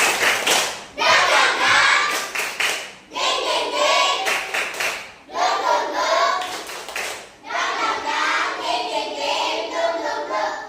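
In a classroom, a group of children performs a rhythmic cheer clap in bursts, sharp patterned handclaps repeated in several rounds with brief pauses between them, a teacher's voice occasionally heard.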